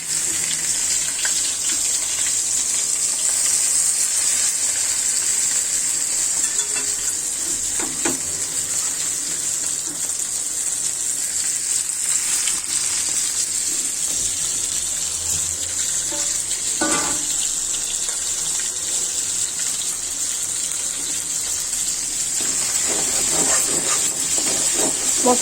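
Kalibaus fish pieces drop into hot oil tempered with cumin, setting off a loud, steady sizzle and hiss that runs continuously with little change throughout.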